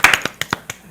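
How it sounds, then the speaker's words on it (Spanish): A few sharp handclaps, about five or six in under a second, ring out at a church service as the congregation welcomes the pastor. They are close and uneven, with no voices. "Un aplauso, Rainero."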